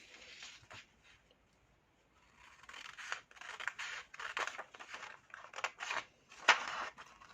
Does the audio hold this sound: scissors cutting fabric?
yes